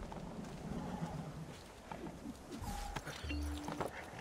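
In Assassin's Creed 2, a horse gives a brief whinny and snort amid faint hoofbeats, fairly quiet and mixed with game effects, while a person speaks briefly.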